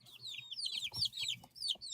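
Pet chickens cluck in a quick, busy series of soft calls mixed with higher chirpy notes, fairly faint and close, with no voices over them.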